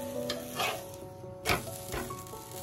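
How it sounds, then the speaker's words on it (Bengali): A cheesy garlic paratha frying in a pan, with a soft steady sizzle and a few scraping stirs or turns of the flatbread, close and moderately quiet, with no talking. "প্রথমে আমি চারপাশটা খুব সুন্দর করে আমি ভেজে নেব, তারপরে তার মধ্যে আমি তেল দিয়ে দেব"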